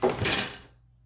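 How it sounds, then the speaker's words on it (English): A single short clack, a quick sharp knock with a brief rattle, fading within a second. "Sorry for that clacking noise."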